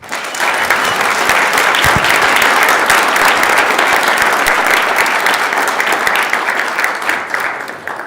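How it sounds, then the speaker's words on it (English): Guests receive a loud, dense round of applause in a state Senate chamber, steady and sustained throughout before tapering slightly at the end. "So if you could please give them a huge round of applause."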